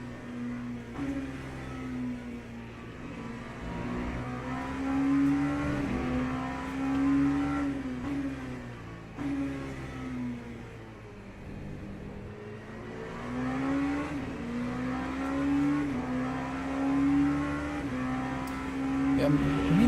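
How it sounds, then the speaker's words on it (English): An LMP2 prototype race car in Le Mans Ultimate sends out a continuous whirring engine drone that rises and falls through gear changes as it passes, with talking at times over it. "There goes another LMP2."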